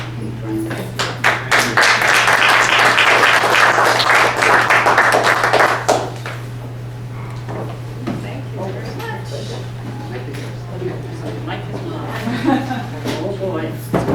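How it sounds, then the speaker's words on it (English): Audience applause for speakers at a seminar, a burst of many hands clapping for about six seconds, then scattered claps and talk with a constant electrical hum beneath. "I'd like to give them another round of applause"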